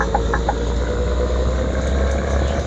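A Hino bus engine heard from inside the passenger cabin gives a steady low idling rumble, constant and fairly loud, with no voices.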